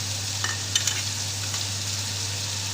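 Green chillies frying in a pan alongside chicken for pulao give a steady, even sizzle with a couple of faint stirring clicks over a low electrical hum.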